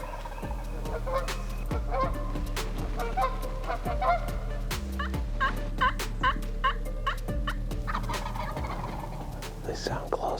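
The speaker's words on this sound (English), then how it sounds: "Gobbling every breath." Wild turkeys gobbling in an open field, a run of loud repeated gobbles close by with bursts of overlapping calls, no talking over them.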